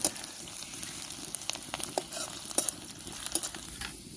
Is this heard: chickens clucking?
no